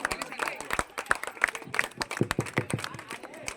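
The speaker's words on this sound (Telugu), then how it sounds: "ఇక్కడున్న ప్రతి ఒక్కరూ చప్పట్లు కొట్టాల్సిందిగా కోరుచున్నాం" A crowd claps at a temple laddu auction after the bid passes thirty thousand, a dense patter of applause close by that lasts throughout.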